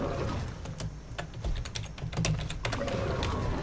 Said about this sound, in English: Oh, I couldn't type fast enough.